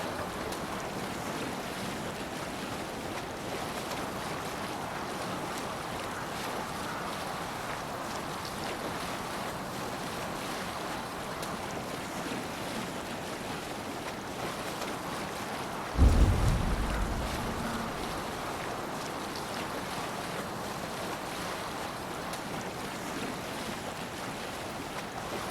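Viking longship sailing over ocean waves in Assassin's Creed Valhalla, a steady wash of wind and water rushing past, with a single heavy thump and splash midway.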